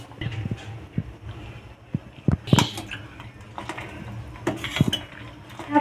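A spoon scraping and clinking against a pot of jaggery tea simmering with cardamom and ginger, giving irregular metallic taps and knocks close by, with no voices.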